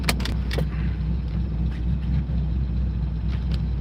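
A C5 car coasts in neutral with the clutch in, giving a steady low road rumble and tire roll without engine revving, while a few brief clicks or rattles sound near the start and end.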